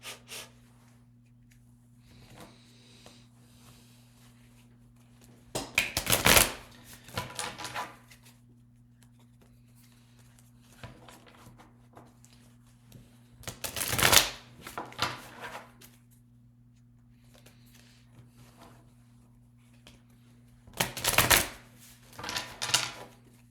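A Rider Waite tarot deck is shuffled in three separate bursts of brisk riffling and card slaps, close up, with quiet pauses and a low steady hum between them.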